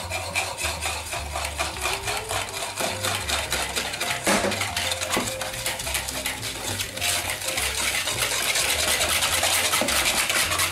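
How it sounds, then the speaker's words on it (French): Batter for a banana pecan pie cobbler being mixed in a bowl: a continuous close scraping and rubbing of a utensil against the bowl, with quick repeated strokes and a few clinks, steady and unbroken, without speech. "On va bien mélanger tout ça, ensemble."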